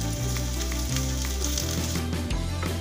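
Garlic sautéed in a pan for tauco cabe ijo, a steady close hiss of frying oil with soft scraping stirs and faint clatter throughout.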